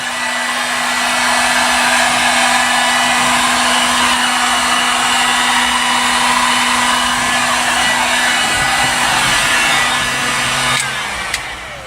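A heat gun blows hot air while finishing sound deadener in a car: a loud, steady roaring hiss that holds for about eleven seconds before cutting off abruptly.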